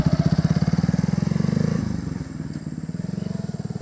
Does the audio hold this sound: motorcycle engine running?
yes